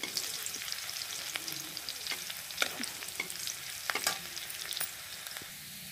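Onions fry in a pan while being stirred, a steady close sizzle broken by scraping and clicks of the spoon against the pan, with no voice.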